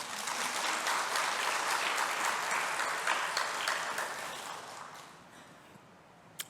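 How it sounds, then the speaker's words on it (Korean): Church congregation at a Baptist service applauding, a full round of clapping that stays even for several seconds, then fades out gradually, with one faint clap at the end. "박수 안 쳐주십니까?"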